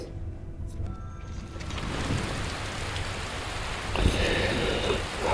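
Steady rain in the video game Skyrim hisses and patters throughout, dripping off an overhang roof, with a denser burst of drips around the fourth second; no voices.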